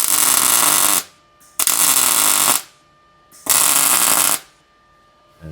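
An HTP America welder on its hot setting runs three separate beads on overlapping 20 gauge steel, each a loud, steady crackling buzz about a second long, with short silent gaps between them.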